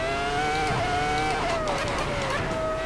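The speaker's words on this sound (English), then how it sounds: "Let's see how fast this Ferrari will go." A Ferrari Formula 1 car's engine screams at Goodwood, a loud, close, high-revving tone that climbs, dips through a gear change and climbs again without pause.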